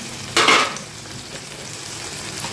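Brinjal slices with salt and turmeric fry in oil, sizzling steadily while a quick utensil scrape or clatter cuts in early, then the hiss settles back to a constant bubbling crackle.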